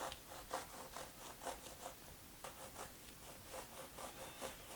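Knife blade drawn back and forth through a lemon birthday cake as it is turned, soft rhythmic sawing scrapes, close and quiet, with no talk.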